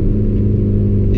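A remapped Audi A3 1.9 TDI (8L, 90 hp tuned to about 155 hp) pulling hard, a brief loud close diesel engine roar with dense low rumble.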